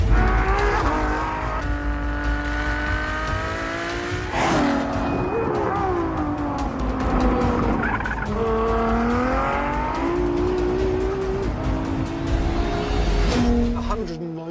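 Supercar racing flat out on a track, its engine rising through the gears in long loud climbs and shifts, with tire noise and someone talking over it throughout.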